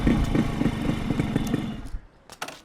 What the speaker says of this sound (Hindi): बाइक चकाचक होते ही हम चल पड़े डॉन के घर